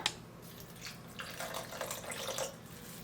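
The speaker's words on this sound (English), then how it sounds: "And I'm just gonna add some water." Water is poured into a bowl of cassava in a quiet, brief splashing trickle that comes in uneven bursts and swells slightly toward the end, with no talking.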